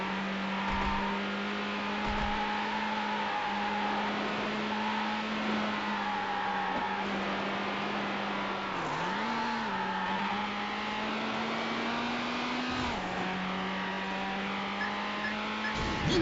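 A silver Ferrari 550 Maranello roars at sustained high revs in the Need for Speed Hot Pursuit 2 racing game, its steady engine drone shifting pitch briefly mid-run, loud and continuous with no talk.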